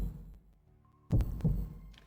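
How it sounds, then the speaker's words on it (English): A heartbeat sound effect in the visual novel game Fate/Extra Record, two deep, muffled thumps close together after a quiet low hum, heard alone. "It's the heartbeat sound!"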